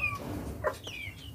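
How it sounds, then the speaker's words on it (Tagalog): Chickens cluck softly nearby, with a few short bird calls over a low outdoor hum. "Pakainin yung mga manok na yan."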